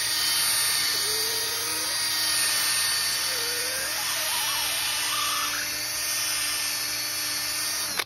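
A steady, high-pitched drill whine from a long drill bit boring into wood runs continuously with a faint wavering tone, loud and close, ending in a sharp click.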